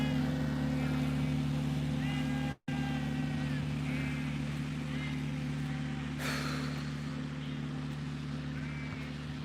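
A steady low mechanical hum of a distant lawn mower drones on in a park, briefly cut off, with faint voices and outdoor sounds, including sheep, over it.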